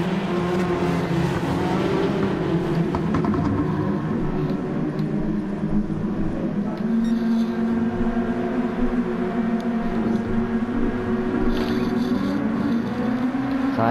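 SUPER GT and DTM race cars at a rolling restart, a dense loud roar of several engines rising in pitch together, with a commentator talking over it.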